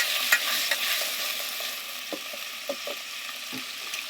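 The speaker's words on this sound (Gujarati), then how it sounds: "મિત્રો મચ્છી નાખી દેશે ને અમારે આવી રીતે હલાવવાનું હોય" Fish fry in oil in a pan while the pan is shaken and stirred by hand without a spoon, giving a steady sizzle broken by scattered scraping clicks, with no talk.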